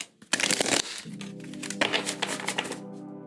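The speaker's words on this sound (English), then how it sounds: "let's shuffle one more time for you, Libra" A deck of tarot cards is shuffled up close in quick, crisp bursts of papery flutter and crackle, with a faint low hum running underneath for most of the stretch.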